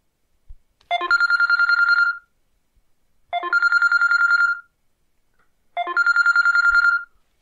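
Telephone ringing while a call is placed, three long bursts of trilling electronic ring about a second and a half each, separated by silent gaps, clear and close with no talk.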